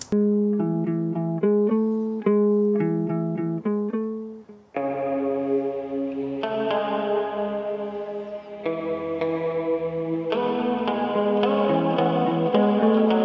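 Clean direct-input electric guitar parts layered with shimmering chorus and spacious reverb, playing bright repeated melodic figures that thicken into fuller chords midway.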